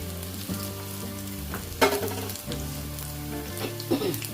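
Onion bajji deep-frying in hot oil, a steady close sizzle with bursts of bubbling as batter fritters are moved around, no voices over it.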